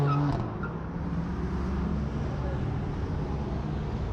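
A Porsche Boxster Spider passes at a supercar drive-by show in Alderley Edge, its engine a loud low roar that fades as it moves away, with steady engine drone continuing underneath.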